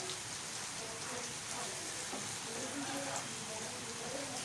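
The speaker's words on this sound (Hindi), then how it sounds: "हमारी बारिश भी स्टार्ट हो गई है, तकरीबन 4 घंटे से बारिश शुरू हुई पड़ी।" Steady rain falls and patters on surfaces outdoors during a session of cooking dhaba-style egg ghotala, a continuous even hiss with no pauses.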